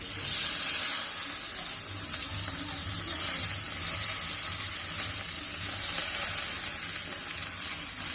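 Hilsa patur wrapped in gourd leaves fries in a pan with a steady soft hiss and sizzle that holds evenly throughout, fairly faint and with no voices.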